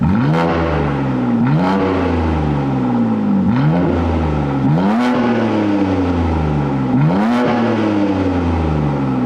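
BMW G80 M3 with S58 turbo inline-six and exhaust valve open, revved repeatedly: about five sharp, loud blips that rise and fall in a regular rhythm, deep with a raspy edge, heard close and alone.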